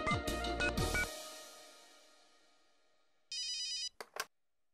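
A telephone rings with a short electronic warbling burst after a fading musical chord, followed by a couple of brief clicks as it is picked up.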